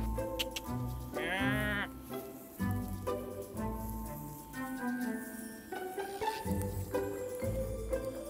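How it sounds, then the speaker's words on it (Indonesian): Merino sheep kept on a farm bleating, one loud drawn-out bleat near the start and fainter bleats later, over a busy background of other animal noise. "Ini adalah domba merino yang kami pelihara"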